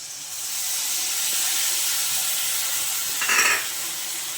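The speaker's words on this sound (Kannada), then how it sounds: "ಈ ಟೈಮಲ್ಲಿ ಹುಣಸೆ ರಸ ಸೇರಿಸ್ಕೊತಾ ಇದ್ದೀನಿ" Tamarind juice goes into onions frying in hot oil, setting off a steady, close sizzling hiss that swells briefly louder near the end.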